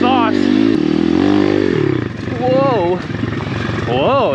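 A 150cc-swapped pit bike ridden on mountain single track, its engine droning loud and close throughout with rising and falling revs and shifting pitch, with a rider's voice over it.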